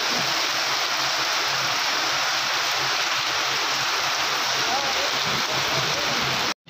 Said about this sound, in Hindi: आप देख सकते हैं मेरे बैकग्राउंड काफ़ी ज़्यादा ओले पड़ रहे हैं यहाँ पे